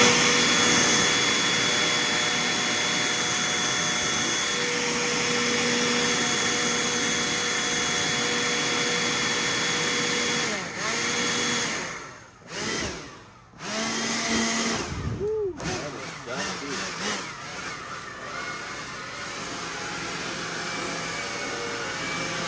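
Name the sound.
vacuum cleaner sucking debris from Rinnai water heater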